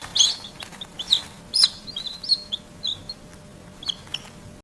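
Newly hatched yellow chicks in a hatchery peep with high, thin chirps in quick irregular bursts, close and clear above a faint low machine hum.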